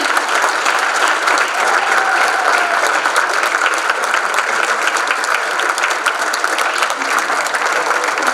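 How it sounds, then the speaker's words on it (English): Sustained, dense applause from a seated audience at a community awards ceremony, honoring parents who stand; loud and steady throughout with no pauses. "give those parents a round of applause"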